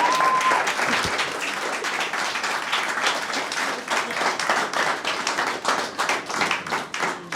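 Steady, full audience applause at a science academy graduation ceremony, many hands clapping loudly and continuously from start to finish, with a slight pulsing rhythm toward the end.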